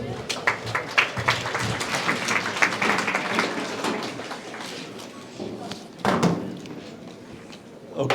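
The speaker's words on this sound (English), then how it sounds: "a round of applause for Luke" An audience at a tech meetup in Singapore applauds a speaker with a steady wash of clapping that swells, fades, then picks up again, while voices murmur underneath.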